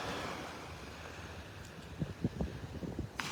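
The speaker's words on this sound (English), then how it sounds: "It's going to be windy, noisy up at the pass. A breezy morning." Wind blowing at the beach near Wiggins Pass on a breezy morning, a steady rush of wind noise over the microphone, with faint surf and a few soft knocks and footsteps toward the end.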